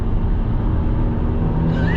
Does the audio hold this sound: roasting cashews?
no